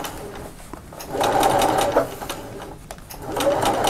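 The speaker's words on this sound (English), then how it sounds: "I'm not going to do a back stitch because I'll go over those stitches again" A sewing machine stitches a fabric toy mouse, running in steady whirring bursts with a brief pause near the middle, loud and close with no talking.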